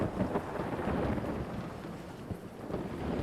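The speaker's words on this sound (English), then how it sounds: "the Spam god said it shall rain, and it is raining" Steady rain with low thunder rumbling through a video game storm, a constant wash of noise that stays loud and even throughout with no voices.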